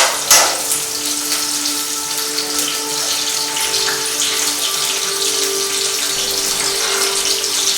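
Onions hiss and sizzle steadily in hot oil in a pan for a Sunday chicken fry, a loud, close, continuous crackling wash with no talking.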